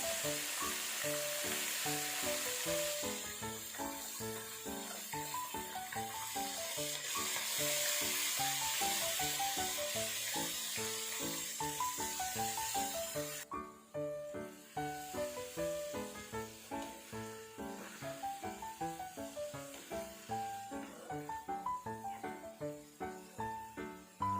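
Squid pieces frying in hot oil in a deep wok give a steady, close sizzle that runs through most of the clip, with melodic music playing underneath and becoming more prominent later.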